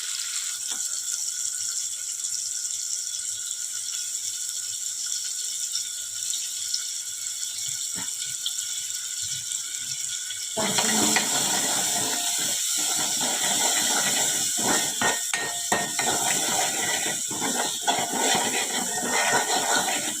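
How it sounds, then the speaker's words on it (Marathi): Finely chopped onion hitting hot oil seasoned with cumin and asafoetida, heard as a soft hiss that jumps into a loud, continuous crackling sizzle partway through and then holds steady, close up with no talking. "आता बारीक चिरलेला कांदा टाकूया"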